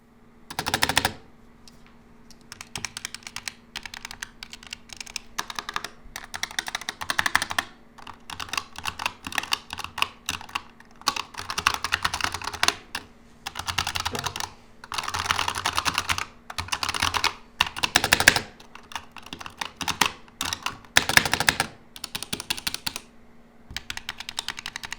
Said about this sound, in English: let's do the sound tests of this keyboard